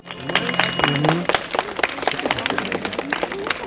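Audience applause at a dance performance by former school graduates in Frankivsk district: a dense patter of clapping, moderately loud and steady, with a voice briefly audible at the start.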